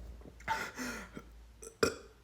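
A young child lets out a couple of short, close burps with soft breathy sounds around them, fairly quiet overall with one sharper gulp near the end.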